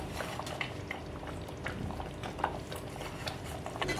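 Crunchy gathiya dropped into a simmering cashew sabji gravy and stirred in, giving a steady bubbling, sizzling bed with soft scraping and clinking of the spoon throughout.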